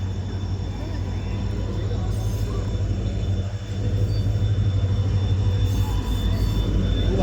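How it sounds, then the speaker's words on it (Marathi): The Tutari Express train rumbles steadily at a station, with a low, continuous mechanical drone and rail noise, people talking faintly underneath throughout. "आपली ट्रेन आलेली आहे, समोरच पाहू शकता."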